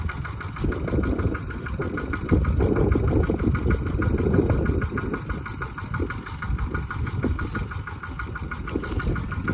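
A Kubota ET95 single-cylinder diesel engine drives a water pump, chugging with a steady rapid knock at moderate loudness, its rhythm holding constant throughout with no voices.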